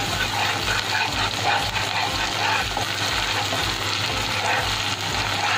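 Spice paste for smoked hilsa sizzles loudly and continuously in a pan while being stirred, with a constant dense frying hiss and a low rhythmic rumble underneath throughout.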